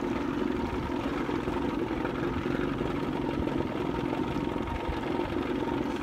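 A 1994 Nitro bass boat's engine idles on the water, giving a steady, continuous low rumble at an even level throughout with no voices.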